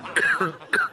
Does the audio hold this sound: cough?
yes